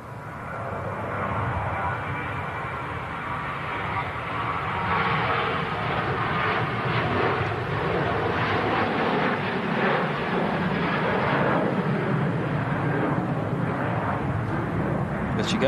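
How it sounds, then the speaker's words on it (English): A Ryanair Boeing 737-800 rolls down the runway with a broad, sustained jet engine roar heard from a distance. The roar grows slightly stronger as it goes on and holds steady for about fifteen seconds. "Ryanair 737 rolling down the runway. 800 series."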